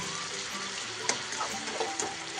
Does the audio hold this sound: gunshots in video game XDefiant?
no